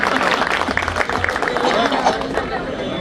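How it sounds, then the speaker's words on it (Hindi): Loud clapping from a crowd at a Delhi Bar Council gathering at Tees Hazari courts as the Chief Minister is welcomed, with voices and crowd murmur mixed in. "जोरदार तालियों से मुख्यमंत्री जी के लिए"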